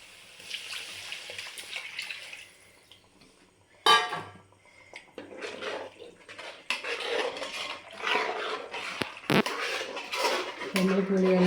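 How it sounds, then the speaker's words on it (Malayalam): Tamarind water poured into a pot of fish curry in a home kitchen, a splashing, trickling pour amid clinks of pots and utensils, close and moderately loud, with a voice in the background. "അതിന് ഇതിക്ക് പുളി ഒഴിക്കുന്നുണ്ട് കേട്ടോ."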